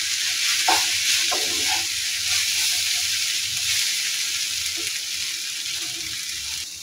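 Water spinach (kalmi shak) stir-fries in a pan with a steady, bright sizzle and occasional stirring scrapes, with no voices.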